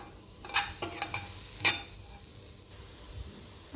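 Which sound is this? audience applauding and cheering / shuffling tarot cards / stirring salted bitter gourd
stirring salted bitter gourd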